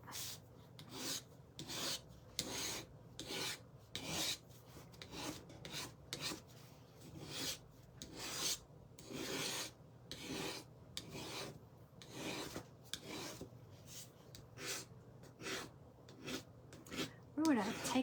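Paint scraper rasping over wax-treated wooden slats, stripping old paint in steady repeated strokes, close and fairly loud, with a voice talking at times between them.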